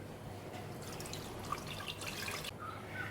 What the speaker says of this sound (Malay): Kita akan buang air yang kita rendam malam tadi.